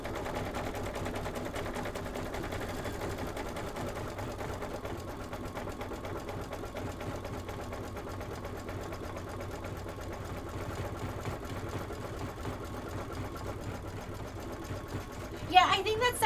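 A Kimberbell embroidery machine stitches out an autumn design with a continuous, quiet, rapid mechanical whir, with a brief louder clatter near the end.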